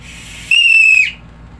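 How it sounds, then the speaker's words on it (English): A single loud, shrill whistle blast lasting about half a second, with a slight downward trill as it ends, over faint background hum, signalling the start of a tour. "if I whistle once"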